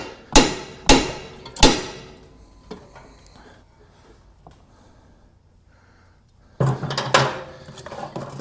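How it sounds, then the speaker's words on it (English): Hammering on a suspension part of a Mazda 3 during ball joint and strut work: three loud, sharp metallic blows close together, then faint clinks, followed by a cluster of heavier impacts. "I think we're going to have to hammer this out"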